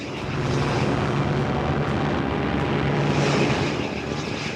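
World War II US bomber aircraft fly overhead, a dense, loud droning engine roar that swells and holds steady, with no voices.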